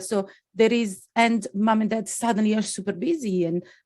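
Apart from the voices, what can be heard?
No distinct noise like a dog, phone or traffic.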